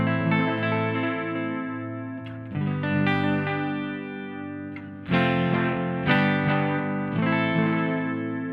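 Electric guitar through a Strymon Timeline pedal in dTape mode gives chord stabs followed by a single tape-style echo with a gentle pitch warble, making a rhythmic repeat pattern that sounds close and full, with no voice over it.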